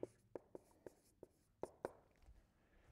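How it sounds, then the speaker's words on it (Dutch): Someone writes numbers by hand during a maths lesson on large numbers, making a handful of quiet, irregular pen taps and strokes that are close and soft. "Dus ik schrijf even op."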